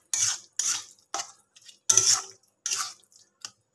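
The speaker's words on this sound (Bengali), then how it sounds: "এবার গ্রেট করা পনিরটাকে দিয়ে ভালোভাবে আমি মশলার সাথে নাড়াচাড়া করে নেব।" Grated paneer is stirred with spices in a pan, giving a series of short scraping, rustling strokes with brief pauses between them, close and moderately loud.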